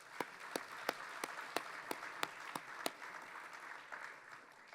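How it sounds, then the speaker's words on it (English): Audience applause at a digital forestry conference: a soft, steady wash of clapping with a few sharper, closer claps standing out at a regular pace. "So let's give them a round of applause."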